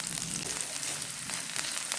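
Carrots frying in white oil in a pan alongside onion, a steady dense sizzle running throughout, close and continuous with no talking.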